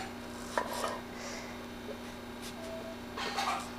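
Ripe tomatoes being cut with a knife on a board for sesame oil tomato chutney, a few soft, close, irregular chopping taps over a quiet background hum.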